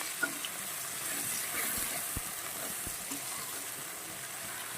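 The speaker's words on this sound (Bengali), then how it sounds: "তো এটা একটু ভাজতে থাকি বন্ধুরা" Onion and tomato fry in a pan with a faint, steady sizzle and a few soft clicks of stirring, no voices present.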